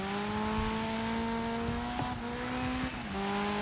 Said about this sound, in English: Kind of have the game cranked so I can enjoy the car sounds.